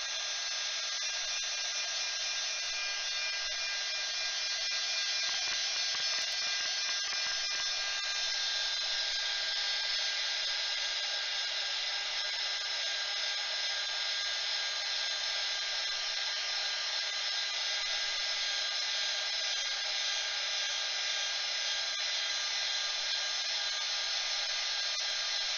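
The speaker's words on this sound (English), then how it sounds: "Now I'm going to dry this because I don't want wrinkles." A hair dryer blows steadily on a watercolor painting to dry out wrinkles, a constant, even whirring hum that runs unbroken for the whole stretch with no talking.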